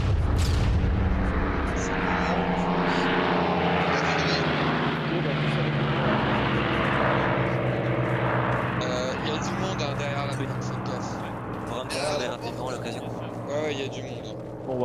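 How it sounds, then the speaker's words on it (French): Arma 3 airstrike scene: a heavy, rumbling roar of a fixed-wing aircraft making strikes dominates, with deep booming low end and a continuous loud wash, while people talk over it throughout. "Alors qu'il y a l'avion qui fait des frappes."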